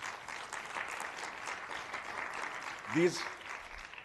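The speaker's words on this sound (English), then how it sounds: "Can we have a big round of applause?" Audience applause at a city council candidate forum, a steady spread of clapping from a crowd, fairly distant, with a voice briefly speaking over it.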